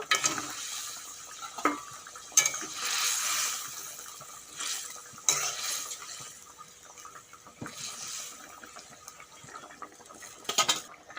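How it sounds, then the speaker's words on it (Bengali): Fried fish pieces going into a simmering potato curry, with close stirring scrapes, soft bubbling and pan clatter in uneven bursts, no talk. "এখন দিয়ে দেব ভেজে রাখা মাছগুলো"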